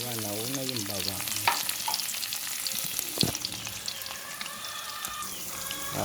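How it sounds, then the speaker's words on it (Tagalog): Garlic sizzling and frying in hot oil in a home kitchen wok, a steady crackling hiss with occasional stirring clatter, loud and close, no talking. "Magigisa na po tayo. Mainit-init na ang ating mantika. Nag-igisa po tayo. Nauna syempre yung bawang."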